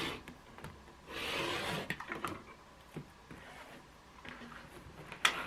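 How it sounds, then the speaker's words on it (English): A trimmer cuts quilted cushion-cover fabric to a 17-inch square on a cutting board. A soft, close rasping drag sweeps through, followed by lighter scrapes and clicks, with no talking. "So I'm going to use my trimmer here to get this all done properly."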